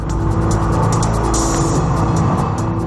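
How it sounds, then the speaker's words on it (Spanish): Ayrton Senna's Williams Formula 1 car howls at full throttle, a loud, sustained high-revving engine roar that holds steady across the whole stretch. "Senna había pisado el acelerador hasta el fondo."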